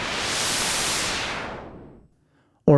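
Hiss of white noise from a Buchla Music Easel synthesizer, a broad even rush held for about two seconds and then dying away, followed by a brief burst of something else right at the end.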